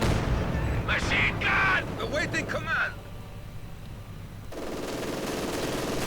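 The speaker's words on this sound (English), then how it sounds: "Grenadiers taking heavy loss to the mortar" Mortar fire striking grenadier infantry in a multiplayer World War II strategy game, heard as muffled gunfire and blasts beneath someone commentator's voice, with a steadier battle rumble after.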